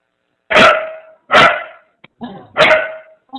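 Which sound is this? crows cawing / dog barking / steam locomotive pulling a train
dog barking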